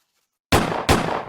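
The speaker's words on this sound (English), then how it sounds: "There's another barrage of gunshots." Two sharp, loud gunshots in quick succession in the video game Call of Cthulhu after a short silence, each with a brief ringing decay.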